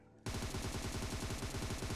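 Rapid automatic gunfire in the Battlegrounds Mobile India (BGMI) shooter game, a dense continuous burst of shots that kicks in abruptly after a brief quiet moment and runs loud to the end.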